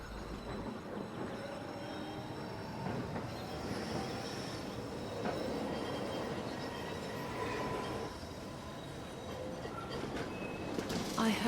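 A tram in the video game Syberia: The World Before rolls along its rails with a steady rumbling clatter and occasional metallic squeals, continuous and moderately loud throughout.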